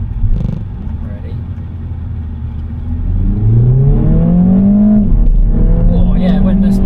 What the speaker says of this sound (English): Let's give this a little launch.